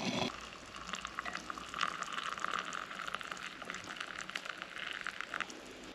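Water boiling in a pot over a small homemade alcohol stove, a steady close bubbling and hissing with a soft roar from the flame underneath, continuous and unbroken.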